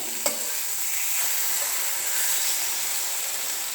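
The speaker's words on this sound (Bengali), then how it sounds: "দেখো টমেটোগুলো ভাজা হয়ে এসছে" Tomatoes sizzle steadily in a hot pan, with a continuous hissing fry and a single sharp clink near the start.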